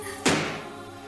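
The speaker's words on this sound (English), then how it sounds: "Nursery door open." A nursery door swings open with a single sharp thunk, near and fairly quiet, followed by a brief fading resonance.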